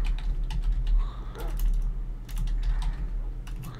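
Rapid typing on a computer keyboard, close and fairly loud, in bursts of clicking keys with brief pauses over a steady low hum.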